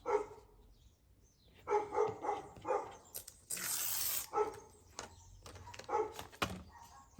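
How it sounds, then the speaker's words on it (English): A dog barks a few times in the background, distant and intermittent, in short clustered bursts, over quiet room noise while paper rustles nearby. "There's a dog now."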